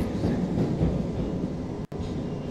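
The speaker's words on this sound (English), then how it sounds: "We have to catch that train." A subway train rumbles steadily through a station in the video game Jonathan Kane: The Protector, a dense, continuous low roar with a brief cut near the end.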